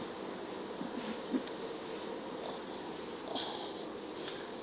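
Honeybees hum in a damp Cooper hive during a spring hive check, a soft continuous buzzing close by with faint rustles and small knocks.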